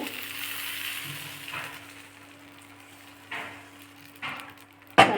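Appam batter ladled into a hot appam kadai sizzles softly with a steady frying hiss, with a few brief louder surges and a sharp clatter at the end.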